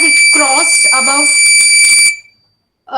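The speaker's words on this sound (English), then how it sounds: "the buzzer started ringing immediately" A buzzer alarm on a greenhouse plant-health monitoring controller sounds continuously for about two seconds as a steady high electronic tone under nearby speech, then cuts off, with a short burst of talk following the silence.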